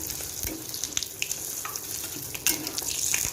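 Soft, steady sizzle of bay leaves and dried red chillies frying in hot oil, with faint crackles and occasional light clinks close by.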